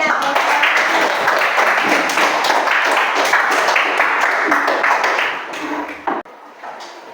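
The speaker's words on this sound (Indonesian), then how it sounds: "Tepuk tangan buat teman Lela." A classroom audience of schoolchildren claps for a classmate after a group discussion presentation, a dense, busy patter of hands that holds steady for several seconds before thinning and fading out near the end.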